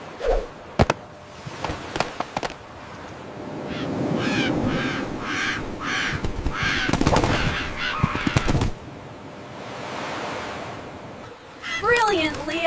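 Seagulls in a LEGO City animation squawk and caw in harsh bursts during a chaotic attack on a camper van, mixed with sharp impacts and excited character voices.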